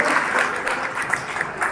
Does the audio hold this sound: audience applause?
yes